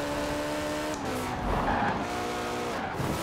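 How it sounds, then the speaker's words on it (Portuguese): Tires squeal steadily as a car drifts in the Forza Horizon 4 racing game, a loud continuous screech over engine noise lasting a few seconds, with no one talking. "Dá pra fazer uns drift da hora aqui"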